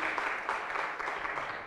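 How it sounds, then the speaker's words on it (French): An audience at a panel event applauds the panelists with dense, steady clapping throughout, moderately loud in an indoor room. "On peut les applaudir."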